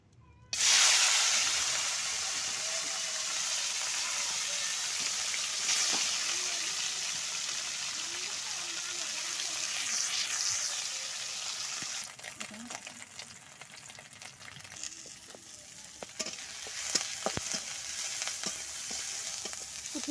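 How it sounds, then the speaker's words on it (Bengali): Small puti fish coated in salt and turmeric hit hot oil in a kadai with a sharp burst, then sizzle and spit steadily for about twenty seconds, with scattered crackles and utensil clicks later on, close and loud. "পুঁটি মাছে লবণ হলুদ মাখিয়ে নিয়েছি। এই যে এখন আমি কড়াইতে দিয়ে দেব।"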